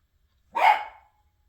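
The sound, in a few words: chihuahua barking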